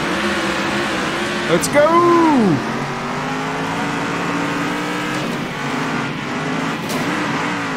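A race car engine drones at full throttle in the Circuit Superstars video game, a steady close buzz with a brief rising and falling whine as it shifts, under someone speaking briefly.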